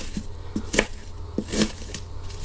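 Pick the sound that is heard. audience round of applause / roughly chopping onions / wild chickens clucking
roughly chopping onions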